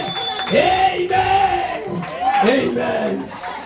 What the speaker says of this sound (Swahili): Tupige Yesu makofi na shangwe na vigelegele.